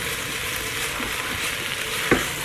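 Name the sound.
food sizzling in a frying pan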